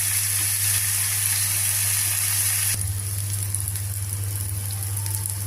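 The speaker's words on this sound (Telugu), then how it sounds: "ఒక మూడు పచ్చిమిరపకాయలు కూడా ఇందులో వేసి కొద్దిగా మగ్గించుకోవాలి" Green chillies and bottle gourd pieces cooking in a pan, with a continuous close sizzle and hiss that drops a little in intensity midway, as if the heat or lid changes.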